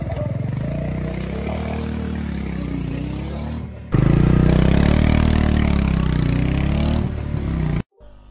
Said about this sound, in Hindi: दोस्तों एग्जॉस्ट नोट बहुत ही सही साउंड कर रहा है स्टॉक साइलेंसर में भी अच्छा साउंड जो है सुनने को मिल रहा है